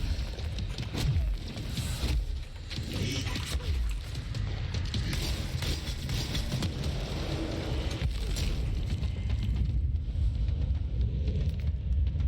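A detonation in the video game Control, with a dense, rumbling blast and busy combat noise running steadily through the whole stretch, loud and continuous without a single sharp peak.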